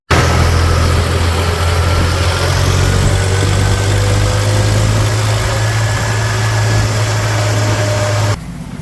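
A tractor engine running loud and close with a steady low throbbing drone and rattling vibration throughout, before it drops away abruptly near the end.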